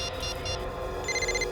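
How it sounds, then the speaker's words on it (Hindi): Mobile phone ringing inside a drawer in a police office, a muffled electronic ringtone rising in short repeated tones near the end over a low steady background hum. "फोन कहां बज रहा है?"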